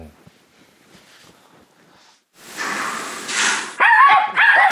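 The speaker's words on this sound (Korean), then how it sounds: "소희의 제일 큰 문제점은 짖음, 그리고 경계성" A dog barks sharply a few times near the end, following a stretch of quiet rustling and then a louder rush of broadband noise.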